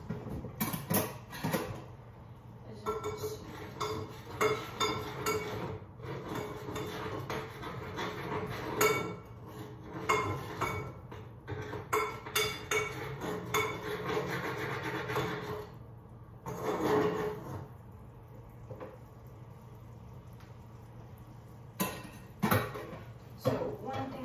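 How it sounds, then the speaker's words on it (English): A kitchen oven gives off irregular creaking, clunking and knocking noises with some metallic rattles, a steady low hum running underneath; the sounds are close and moderately loud, and a voice speaks at times. "this oven's making noises"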